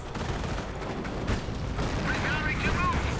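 A Panzer IV tank in a Commonwealth-versus-Panzer Elite strategy game match takes a hit and explodes amid continuous booming battle noise, heavy rumbles and gunfire layered under a commentator's voice.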